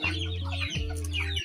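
Chickens clucking close by, a steady run of low clucks with a brief break partway through, over faint background noise.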